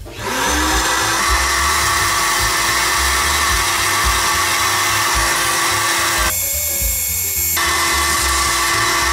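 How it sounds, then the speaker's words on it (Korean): Power saw with a non-wood blade cutting soft MDF at low speed, a steady loud motor whine running throughout with a brief harsher burst of cutting noise near the end, no talk. "NDF처럼 이렇게 무른 나무 같은 경우는 뭐 저속으로도 충분히 잘 잘리는 걸 이렇게 확인을 할 수가 있죠"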